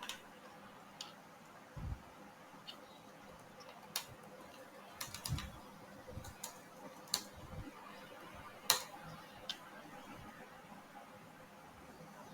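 Fingers type on a computer keyboard in quiet, sparse irregular clicks and short bursts of keystrokes spread across several seconds, faint and close.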